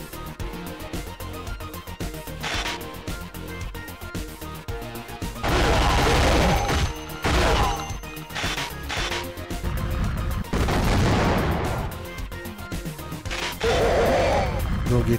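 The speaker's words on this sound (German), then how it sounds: "Da ist der Typ wieder mit dem Maschinengewehr." Bursts of machine gun fire in the PlayStation 1 shooter CT Special Forces, loud rapid rattling volleys in several clusters over game music and effects, with some talk in between.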